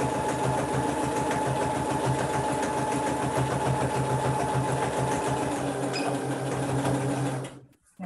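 A Singer sewing machine runs steadily for about seven seconds, stitching a straight seam through flat-held fabric for a zipper pouch, with a loud, even mechanical whir and rapid needle rhythm before it stops abruptly near the end.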